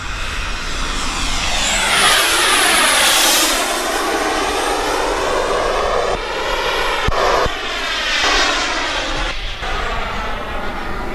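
A Freewing Zues sport jet's 45NT turbine runs at part throttle, a loud whining roar with sweeping pitch changes as the engine spools, close and steady, with brief clicks mid-run.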